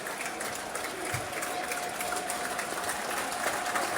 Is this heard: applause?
yes